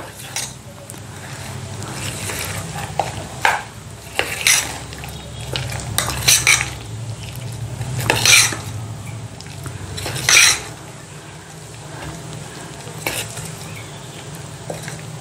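Vegetables and salt stirred into idli batter in a bowl, with repeated clinks and scrapes of a spoon against the bowl in uneven bursts over a soft background, close and without speech.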